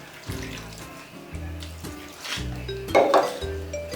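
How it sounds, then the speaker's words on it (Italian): Water is poured into a kitchen pot for mandarin marmalade, a close splashing stream broken by light clinks of the pot and utensils, with no voices. "metto 100 ml di acqua"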